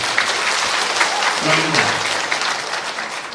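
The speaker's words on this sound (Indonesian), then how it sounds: "Boleh tepuk tangan buat semua." A crowd at a political forum applauds loudly and continuously, with a voice briefly audible beneath the clapping.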